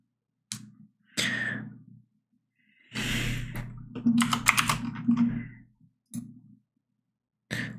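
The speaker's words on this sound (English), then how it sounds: "Why does your keyboard sound underwater?" Bursts of computer keyboard typing with a muffled, underwater-like character, several separate clusters of keystrokes with silent gaps, close by and with no talk.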